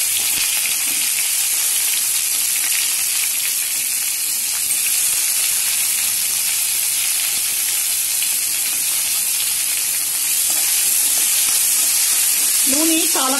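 Onions and curry leaves fry in hot oil with a steady, loud bright sizzle and hiss that continues throughout, with faint stirring and a brief voice near the end.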